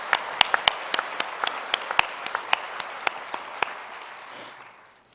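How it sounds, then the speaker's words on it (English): A small audience claps for student speakers at a university lecture, sparse distinct hand claps in an uneven rhythm that thin out and fade over a few seconds. "Would you join me in giving them a round of applause?"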